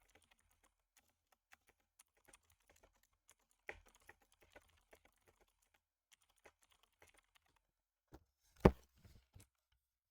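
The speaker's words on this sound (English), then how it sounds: "I can't type as good as I want to." Fingers tap on a computer keyboard in sparse, irregular clicks, quiet and close, with one louder keystroke burst near the end.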